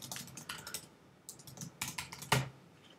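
A name is typed on a computer keyboard in quick bursts of close, crisp key clicks, with short pauses and one louder final keystroke like a press of enter.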